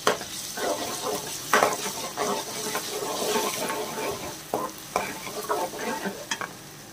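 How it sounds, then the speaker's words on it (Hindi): Crushed ginger and garlic sizzle in hot oil in a pan while a spoon stirs and scrapes through them in uneven strokes, for an arvi gosht salan. "एक मिनट तक हमने अदरक और लहसुन को भुना है"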